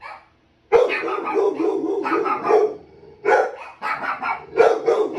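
An American Bully dog barks loudly and close by in a rapid series of deep, rough barks, with short pauses between bursts.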